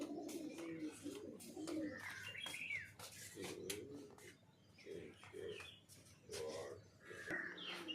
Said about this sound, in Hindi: ये कबूतर बैठे हैं।